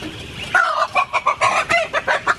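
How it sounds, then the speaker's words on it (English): A flock of backyard chickens clucks loudly and close while being fed and let out, a quick run of rhythmic, repeated clucks. "we're just here feeding the chickens, letting them out"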